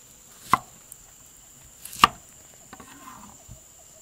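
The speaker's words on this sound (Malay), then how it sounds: "Bawang holland ni potong 4 je." A long kitchen knife cuts a large onion into quarters on a board. Two sharp, distinct chops land about a second and a half apart, with a few faint taps after, in a quiet room with no talk.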